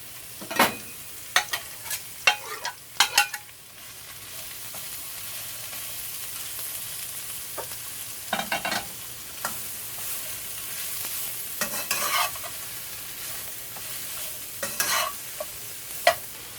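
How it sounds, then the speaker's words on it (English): Mushrooms, onions, peppers, carrots and broccoli being stir-fried for Trinidad Chinese shrimp lo mein, a steady sizzle broken by repeated sharp scrapes and clacks of a utensil against the pan in irregular clusters. "add the mushrooms, the onions, the peppers, the carrots, and the broccoli. And we're just gonna stir that for a couple minutes"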